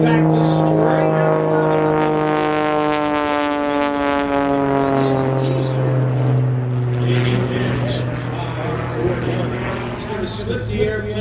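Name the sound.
aerobatic airplane engine at an air show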